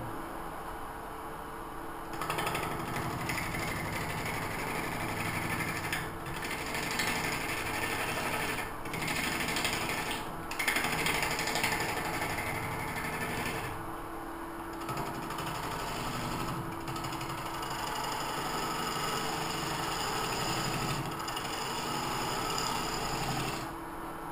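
A wood lathe spins a cherry hollow form at higher speed, giving a steady mechanical whir with faint tool scraping throughout, continuous and fairly close, with no voices.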